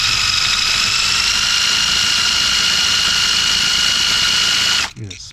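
An impact gun with a swivel and socket spins an easy out during 2006 Sprinter T1N injector replacement work, a loud steady high-pitched whine held for about five seconds before stopping abruptly.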